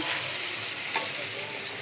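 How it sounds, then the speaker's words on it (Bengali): Steady hiss of fish frying in a hot wok, a continuous crackling sizzle with no talking. "প্রথমে আমি মাছ কড়াইতে দিয়ে দিলাম"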